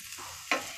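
Sautéed vegetables and corn are stirred in a frying pan, a steady close sizzle with a quick scrape of the spoon against the pan.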